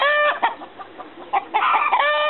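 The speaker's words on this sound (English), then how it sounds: "Those are all our hens." Farm hens cluck in short, close bursts while a rooster lets out loud, harmonic crows at the start and end, with no one talking.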